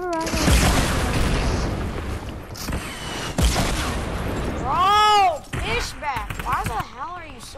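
Heavy booming blasts from a rocket launcher in a shooter video game, one at the start and another a few seconds later, mixed with excited talking and game noises.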